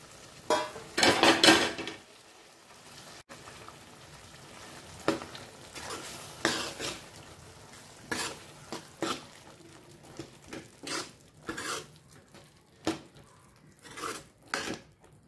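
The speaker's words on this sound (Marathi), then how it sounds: "आता आपण शिजवलेले हे हरभरे आहेत कुकरला, ते आपण टाकूया" Pressure-cooked chickpeas tip into a pan of masala fried in oil and get stirred, with a burst of wet clatter followed by a run of sharp spoon scrapes and knocks against the pan over a faint sizzle.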